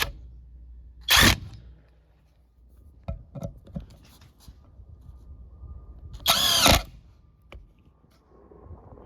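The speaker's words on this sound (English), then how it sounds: "Now we just turned this impact driver into a cordless drill." A brushless cordless impact driver whirs in two short loud bursts driving screws, with some clicks and handling noises in between against a quiet background.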